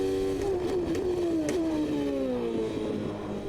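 A race car engine in Automobilista 2 on the Adelaide street circuit of the 1993 Australian GP holds a steady high rev at throttle, its pitch sliding slowly lower, loud and close with no talk.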